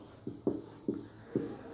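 Notes being written by hand during a geography lesson: four short, quiet scratchy strokes spaced apart, with nothing else in between.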